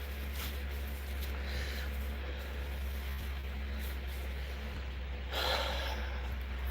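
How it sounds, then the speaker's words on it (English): A person blowing their nose: a few short, breathy bursts of air, loudest near the end, over a steady low hum with no talking. "I gotta blow my nose."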